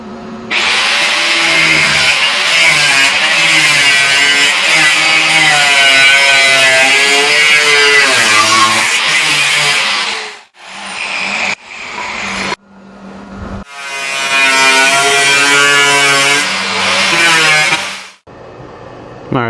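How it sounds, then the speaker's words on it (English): A fast-spinning cutting wheel bites into rusty steel on the rocker panel of a 1989 Grand Wagoneer, throwing sparks. It gives a loud, sustained grinding whine with a few brief pauses and restarts. "There's a lot of sparks. Very sharp wheel turning very fast."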